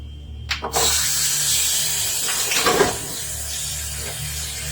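Cold water runs from a kitchen tap in a steady rush, with a couple of knocks and clatters near the start and a brief surge midway.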